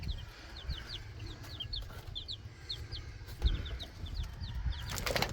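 Baby chicks between four days and a week old peep in rapid, repeated high chirps that run steadily at close range over a low background rumble, with a brief rustle near the end.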